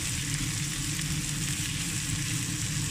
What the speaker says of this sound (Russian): Горошек долго даже не надо обжаривать.